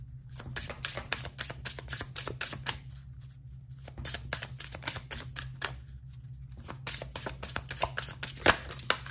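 Tarot cards shuffled and drawn in a quiet room, a rapid run of crisp riffling flicks broken by two short pauses before the shuffling resumes.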